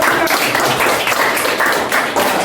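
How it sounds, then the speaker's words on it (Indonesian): Classroom group applause after a student presentation, steady dense clapping from many hands throughout, fairly loud and close, with no talk over it. "kita berikan aplaus untuk kelompok"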